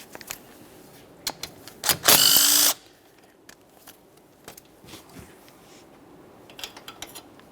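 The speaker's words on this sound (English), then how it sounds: "We're going to remove this 12mm headed bolt that holds our ABS wire and brake flex hose in place." A power tool loosens a 12mm-headed bolt that holds the ABS wire and brake flex hose on a 2011-2020 Toyota Sienna front strut, one loud burst lasting under a second amid quiet clinks of tools in a garage.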